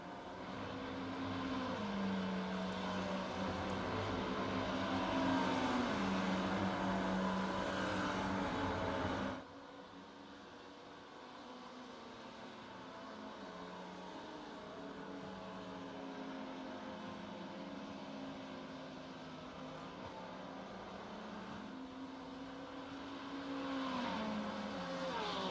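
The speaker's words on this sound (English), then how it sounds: "Listening to these supercars get around" Supercars in an endurance race at the Red Bull Ring in a racing game roar past with shifting, revving engine notes. The sound is loud at first, then drops to a steadier, more distant drone of cars circulating.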